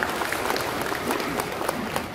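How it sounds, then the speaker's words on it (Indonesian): Brief burst of applause from a conference audience of teachers in Jakarta, a fairly distant wash of many hands clapping with some scattered sharper claps, lasting about two seconds. "Boleh tepuk tangan buat tema."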